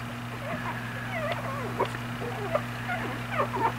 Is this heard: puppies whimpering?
yes